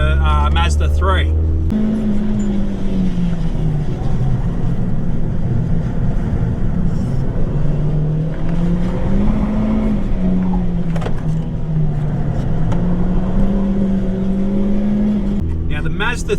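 A Mazda 3 race car engine at a club hill climb drones steadily with rising and falling pitch as it accelerates and shifts, loud and close throughout.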